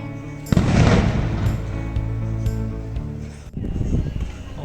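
Explosives set off to ward off evil spirits in Chiapas, Mexico: a sudden loud blast followed by booming rumble and crackle that fades, with another burst near the end.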